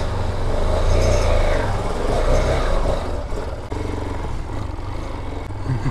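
A Raven 250 Enduro motorcycle engine runs steadily just after starting, a loud, continuous low rumble that holds near and even throughout, without talk.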